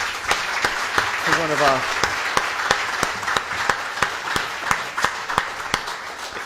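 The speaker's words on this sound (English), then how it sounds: "please give a warm round of applause" An audience applauds panelists at the close of a discussion, with sharp, regularly spaced claps over a softer clapping wash while a person speaks.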